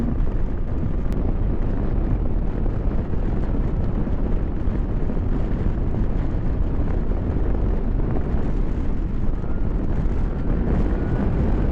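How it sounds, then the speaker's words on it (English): Steady, loud wind roar buffeting the rider at speed on a 2023 Zero DSR X electric motorcycle, with no engine sound, a constant dense rush filling the whole stretch without pause. "There's no engine's noise. There's nothing. It's just the wind."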